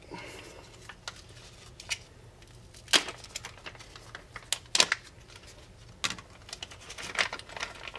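Crinkling, tearing plastic packaging as a two-pack of push-in trident clips is opened, with a few sharp rustling bursts over a low steady background, fairly quiet and close, no talking.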